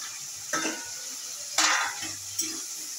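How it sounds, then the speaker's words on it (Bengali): Sea crabs dropped into sizzling spiced masala and oil in a pan, a constant crackling fry with three sharper bursts of hissing as the pieces hit the hot oil and get stirred. "মশলা কষা হয়ে গেছে, তেল ছেড়ে গেছে, দেখুন বন্ধুরা। আমি ক্যাকড়াগুলো এবার দিয়ে দিচ্ছি।"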